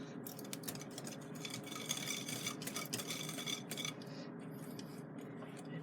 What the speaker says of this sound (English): Now we'll add our half cup of sugar and our 1/4 teaspoon of salt and blend that in.